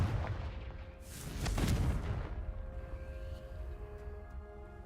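The Confringo spell detonates in Hogwarts Legacy as a deep booming blast that swells at about the midpoint and then rumbles and fades away, with no voices over it.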